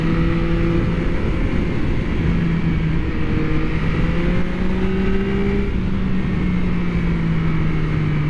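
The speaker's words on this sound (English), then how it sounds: "if I just turn the throttle a little bit, I get a lot of response from the engine" A 2023 Yamaha MT-09 SP motorcycle engine hums steadily and rises in pitch as the throttle is twisted, revving up and easing off, loud and close with no talking.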